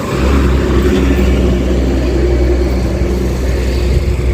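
A car engine hums steadily nearby as a vehicle goes past, a continuous low rumble with no voices.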